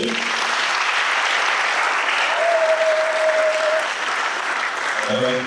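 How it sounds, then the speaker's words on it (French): A church congregation applauds for the Lord with dense, sustained clapping throughout, and a voice rises briefly over it. "Applaudissez pour le Seigneur"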